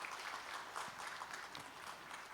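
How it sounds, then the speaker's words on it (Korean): Applause from the congregation at a church course graduation ceremony in Korea sounds soft and distant, a steady patter of many hands over a couple of seconds. "박수로 격려하겠습니다"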